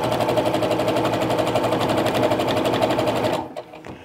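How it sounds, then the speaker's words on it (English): A sewing machine runs steadily and close up, stitching a quarter-inch seam along the bottom of a child's face mask, its fast even needle rhythm holding for over three seconds before it stops. "So now I'm going to stitch along this bottom with that quarter inch seam."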